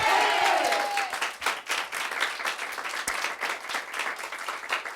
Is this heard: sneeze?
no